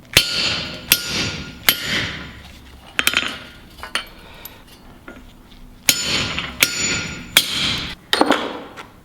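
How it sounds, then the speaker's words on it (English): Sharp metallic hammer blows strike a punch set on a rivet held in a steel bolster while a cooper fits a whiskey barrel hoop. Single and double ringing impacts land in irregular bursts, close and loud with short decays, and no one speaks. "Put your rivet into it, get a punch."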